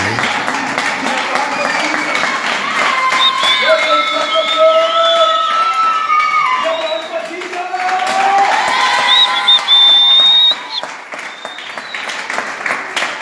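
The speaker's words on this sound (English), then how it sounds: "Clap your hands for them." A church congregation claps and cheers loudly for a sustained stretch, dense applause with whoops and raised voices mixed in, the sound swelling and staying steady for most of its length.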